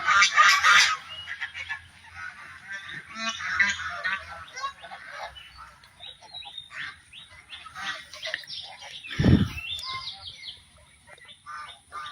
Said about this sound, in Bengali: এই যে রাজহাঁস, অনেকগুলো রাজহাঁস। আর একটু জুম করে কাছে দেখাই, কি সুন্দর খেলা করছে আর ডাকছে।